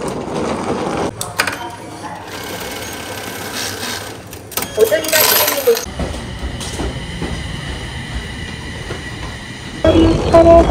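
Commuter train running after departing Toshogu Station, with steady rumbling and rail clatter from inside the car; the level shifts several times, including a brief louder squeal and a quieter stretch.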